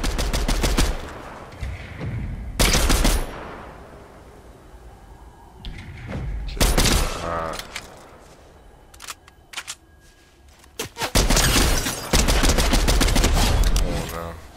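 Weapon fire in Fortnite: sharp bursts of rapid shots in several separate volleys with quiet gaps between, loud and close, one burst trailing off in scattered single cracks.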